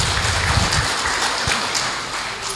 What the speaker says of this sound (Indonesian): Mohon tepuk tangan Bapak Ibu sekalian.